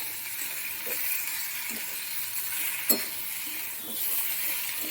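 Half a spoon of ginger garlic paste frying in a pan, a steady close sizzle with a few soft stirring scrapes and one brief clink, no voices.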